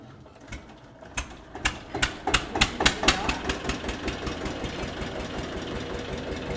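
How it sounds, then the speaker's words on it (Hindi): A tractor engine cranks and catches at a dairy cowshed, sharp knocking beats that quicken and then settle into a fast, steady idle chug, loud and close. "मतलब बताओ न कर दिया ट्रैक्टर स्टार्ट है"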